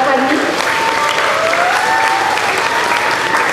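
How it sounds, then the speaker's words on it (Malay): An audience at a religious talk in Bandar Uda Utama, Johor, claps for the children seated at the front, a loud dense burst of steady applause that fills the room for several seconds. "seterusnya beri tepukan kepada anak-anak syurga kita yang berada di hadapan ni"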